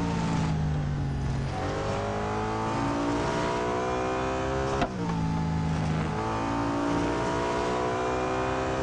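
Koenigsegg CC850 RR3 hypercar engine pulling hard with a manual gearbox: a loud, close, continuous rising roar through the gears, with a sharp gear change midway before the howl climbs again.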